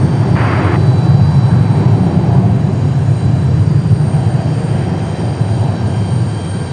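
Delta jet airliner departing from Raleigh-Durham International, a loud, steady low engine roar sustained close by throughout with no voices.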